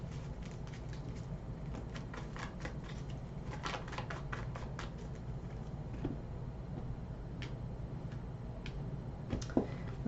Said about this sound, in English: let's shuffle these cards here so we can clarify.